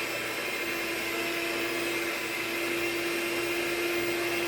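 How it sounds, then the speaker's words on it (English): An electric mixer whirs steadily while creaming sugar and butter for lemon blueberry bread, a constant, even motor drone with no breaks. "I'm just combining the sugar and the butter right now."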